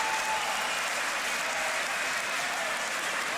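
Loud, steady applause from a crowd fills the space right after a round of a world-league beatbox battle, with faint cheering mixed into the dense clapping.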